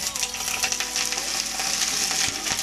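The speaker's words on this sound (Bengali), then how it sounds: "তেল গরম হয়ে গেছে, ওই তেলের মধ্যে আমি দিয়ে দেবো কেটে রাখা ফুলকপি।" Cut cauliflower florets sizzle steadily in hot oil in a wok for a vegetarian cauliflower and potato curry with peas, a dense continuous crackle with occasional sharper pops and light stirring.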